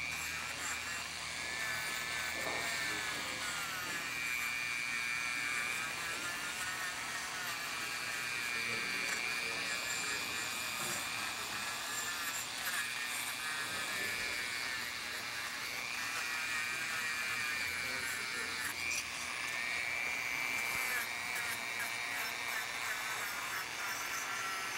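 A Dremel rotary tool whines continuously at a high pitch for an extended stretch at a blacksmiths' conference, moderately loud and steady, with a room of people murmuring faintly underneath.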